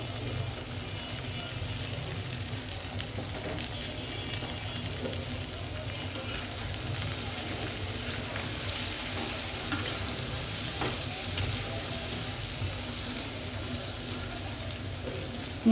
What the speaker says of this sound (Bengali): মাছের সাথে আমি পেঁয়াজটিও ভেজে ফেলব।